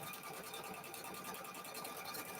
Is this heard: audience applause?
no